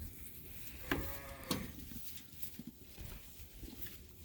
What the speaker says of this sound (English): I hear the lambs crying, so they want their milk